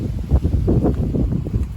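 Steady wind rumbles and buffets the microphone outdoors at a summer garden allotment, a low gusty roar that swells and dips throughout with no voices.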